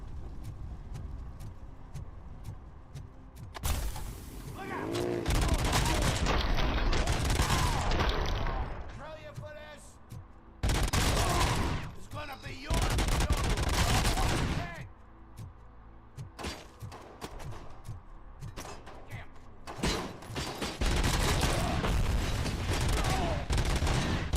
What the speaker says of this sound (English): Those two things combined allows me to just use my pistol as basically an Uzi.